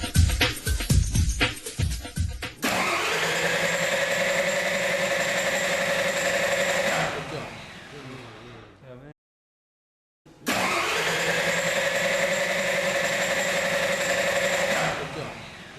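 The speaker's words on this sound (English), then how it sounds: "When the engine would not start up but cranking only." A small engine cranks with a steady mechanical whirring, stops briefly into silence, then cranks again without catching; brief noises and a voice come before.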